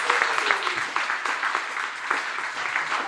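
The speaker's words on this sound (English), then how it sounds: "Can I get one more round of applause for these four" Audience at a virtual and augmented reality forum launch event applauding four panel speakers; a brisk, fairly close burst of clapping runs evenly throughout without talk.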